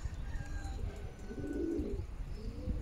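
Racing pigeons coo as they arrive home after a 290 km race, soft low throaty coos close by over a murmur of background noise.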